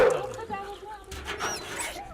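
Several dogs whimper and yelp in short, high bursts, close by and mixed with a little background chatter.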